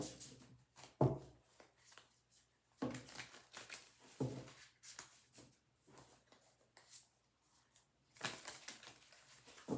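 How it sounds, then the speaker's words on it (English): A deck of Psalm cards being shuffled by hand: several short, papery riffling bursts with quiet gaps between them, close but fairly soft, with no talking. "All right, let's give it a couple shuffles."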